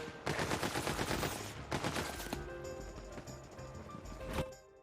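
Rapid gunfire in the video game Tiny Tina's Wonderlands comes in two dense, close bursts of rattling shots, followed by fainter mechanical clicks and a final short blast.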